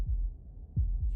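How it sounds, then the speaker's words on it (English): Slow, deep heartbeat thuds from the video game Slay the Princess, several dull low pulses in a steady rhythm, close and quiet with no talk. "That was the sound of a heartbeat."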